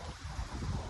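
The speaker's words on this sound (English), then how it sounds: "A bit windy." Wind blowing outdoors in open country, a steady rushing buffet across the microphone with low gusty rumbles and no voices.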